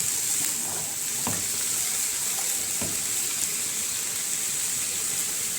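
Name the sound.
sautéing oxtail in a pan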